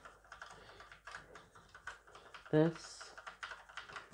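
A Luxor ABC80 computer keyboard under repair is tested with light, sparse key taps, and a voice cuts in briefly partway through.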